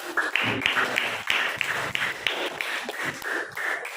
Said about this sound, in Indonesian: Oke, kita kasih tepuk tangan dong